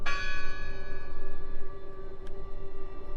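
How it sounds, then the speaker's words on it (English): A church bell in the video game Draugen rings with a bright metallic strike and a long shimmering decay, struck again faintly near the end, with no voices over it. "The bell's still ringing."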